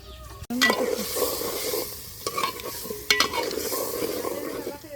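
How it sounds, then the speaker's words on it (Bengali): Fish braising in a pan over an outdoor cooking fire, a steady sizzle broken by several sharp scrapes and knocks of a spatula stirring the pieces, close and without talk. "এই যে মাছ মাছ কষায় রাখলাম"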